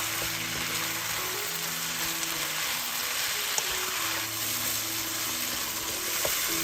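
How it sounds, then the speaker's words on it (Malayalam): Sliced small tomatoes sauté with a steady, close sizzle in a pan for Kerala-style goat mutton curry, continuous frying with faint occasional stirring clicks and no talk. "3 മിനിറ്റോളം നന്നായി വഴറ്റുക."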